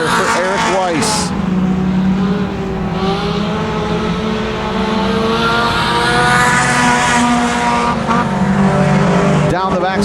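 Mini stock race cars roar around a dirt track at Genesee, engines droning loudly and continuously, with a race announcer talking over the noise throughout.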